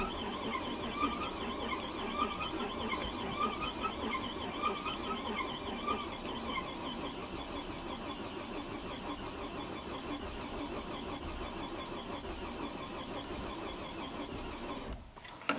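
A Buick Rainier engine turns over on the starter after an engine swap but never catches, a steady, grinding, squealing crank that runs without a break for about fifteen seconds, then cuts off abruptly.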